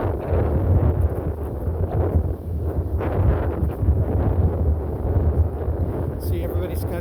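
Wind gusting on the Las Vegas Strip on a morning, a steady broadband rush with microphone buffeting that swells and eases, loud and continuous, with traffic-like rumble beneath.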